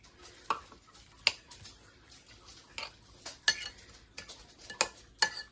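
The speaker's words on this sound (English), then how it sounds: "Give this a nice stir." A spoon stirring a bowl of bruschetta mix of chopped tomato, red onion and Italian seasoning, giving scattered light clinks and scrapes against the dish at an uneven pace, close and fairly quiet.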